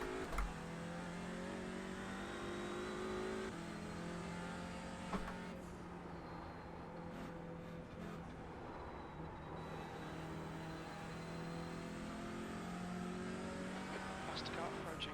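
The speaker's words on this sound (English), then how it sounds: "Faster car approaching. They're racing us for position." Race car engines drone steadily throughout an iRacing sim race, a faster car closing in from behind as the harmonic whine shifts, with a voice talking over the engine noise.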